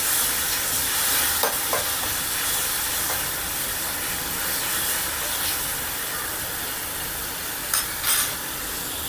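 Salted tomatoes cook in a pan for a dry ginger and black pepper rasam. A steady close sizzle and hiss runs throughout, with a few faint clinks of stirring.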